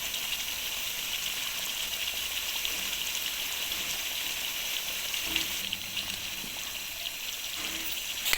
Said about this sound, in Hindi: इसमें पानी डाल लेंगे।